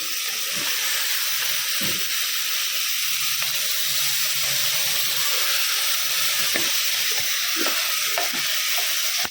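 Vegetables tipped into softened tomatoes frying in a pan hiss in a loud, continuous sizzle, with scattered clinks and scrapes of stirring.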